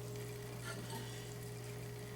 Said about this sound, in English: And we're getting a sizzle.